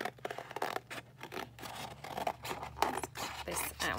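Scissors cutting out a paper butterfly printable, close and crisp, with repeated snipping and rasping blade strokes through the paper plus faint rustling as the sheet is turned.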